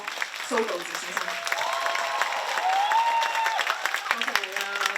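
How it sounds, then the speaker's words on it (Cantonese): A concert audience in a solo show gives warm applause, a dense wash of clapping that swells and holds, with voices and a brief tone sounding over it. "請掌聲俾呢首歌嘅新嘅編曲"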